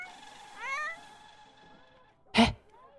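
A cat in The Sims 4 lets out a drawn, rising meow, followed after a pause by a short, sharp, harsh burst, with quiet background music between them.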